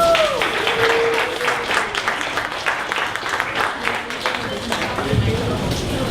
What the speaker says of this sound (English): Everyone stand up and give Karen a round of applause.